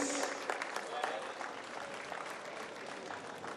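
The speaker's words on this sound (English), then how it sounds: "a big round of applause for Adam Lachko" Crowd applause at the Zolder circuit race podium ceremony for the top three finishers, a steady wash of clapping throughout with a few sharper accents early on, fairly distant and even in level.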